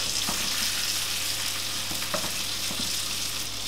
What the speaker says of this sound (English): I'm going to add in a knob of butter. Let that kind of just foam and cook.